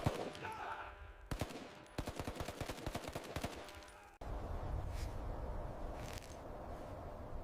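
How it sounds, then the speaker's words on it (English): Rapid bursts of machine-gun fire rattle in quick strings, followed by a rumbling roar with distant booms. "gunfire erupted from above"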